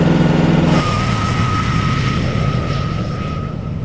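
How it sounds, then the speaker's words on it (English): A loud, steady tractor engine drone during post-harvest vineyard spraying, rumbling continuously with a faint high whine on top, close and unbroken throughout. "The tractor was a little bit too loud in this particular clip"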